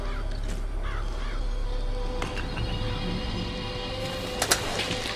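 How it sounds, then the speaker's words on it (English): Crows cawing from the Murder of Crows vigor in BioShock Infinite, a few harsh calls early on over a steady game ambience, with sharper bursts near the end. "Press to summon murderous crows."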